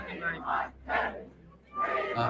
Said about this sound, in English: People were cheering and screaming